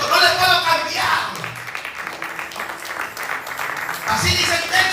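Church congregation clapping during an evangelist's sermon, a steady wash of applause that swells at the start and again near the end, with voices talking and calling out over it.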